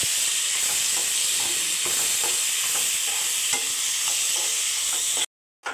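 Beetroot being stirred in a frying pan, a steady sizzle under repeated scraping and clicking of a spoon against the pan, close and continuous before cutting out abruptly at the end.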